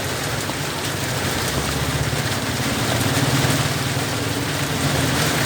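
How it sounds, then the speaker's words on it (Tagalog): Heavy rain pours steadily and loudly beside a street food stall selling fishballs and turon, a dense continuous roar with a low engine-like rumble underneath and no voices. "Ulan po, malakas ang ulan."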